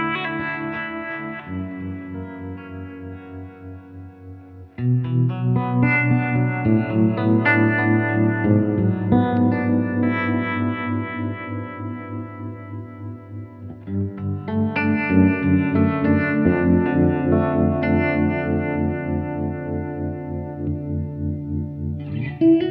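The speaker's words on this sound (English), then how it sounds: "just a great, great sounding guitar, beautifully made by the guys at the Yamaha Custom Shop in Los Angeles" A Yamaha Custom Shop electric guitar plays through an effects rig, ringing sustained chords and melodic lines with a shimmering chorus, mild distortion and echo. It plays alone with no voices.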